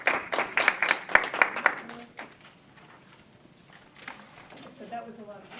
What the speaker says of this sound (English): we gave a round of applause to Nikki and also the teacher tutors that worked with the students for the November retest